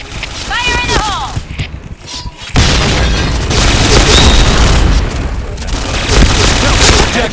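A gas grenade goes off in a video game with a loud, sudden boom followed by a sustained rushing hiss and rumble. Whistly chirps and talking are heard before the blast.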